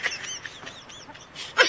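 Chickens clucking and calling during a flood in Aborlan during a typhoon: several short, scattered bird calls at moderate level, with a louder squawk near the end over faint background noise.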